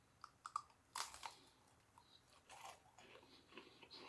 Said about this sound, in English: Let's see if it's still crunchy.